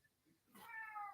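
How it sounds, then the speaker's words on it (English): A house cat lets out a single loud, drawn-out meow that rises sharply and then holds, close by, over a faint quiet background. "You have a cat here that has a loud mouth"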